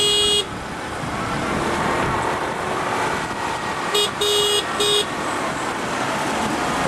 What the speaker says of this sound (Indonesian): Kasih kode klakson aja, kasih klakson.